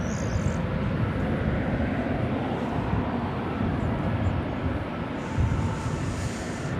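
An American Airlines jet taking off at Dallas Fort Worth Airport, a broad, steady engine roar heard from a distance that holds level throughout, with no voices.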